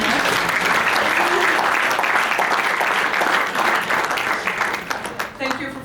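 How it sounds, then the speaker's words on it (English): Loud, dense audience applause for Coach Dunn, named Coach of the Year, holds strongly and then thins and fades toward the end. "Round of applause"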